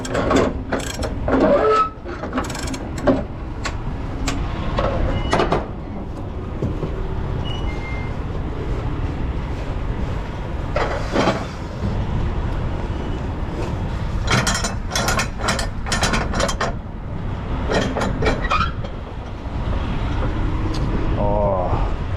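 A ratcheting winch tightens a 4-inch cargo strap while securing slinky steel coils on a truck, giving repeated close metallic clicks in bursts over a steady outdoor rumble, with brief talk around it.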